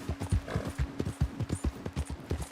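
Horse hooves clip-clopping in Red Dead Redemption 2, a steady walking rhythm of close, clear hoof strikes over a faint low hum, with no talking.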